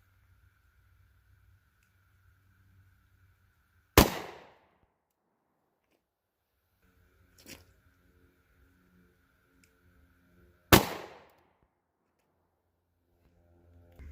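Two sharp, loud 9mm gunshots from Federal Punch 124-grain rounds fired into 16-inch ballistic gel blocks, spaced several seconds apart with a softer click between them, in an otherwise quiet outdoor setting.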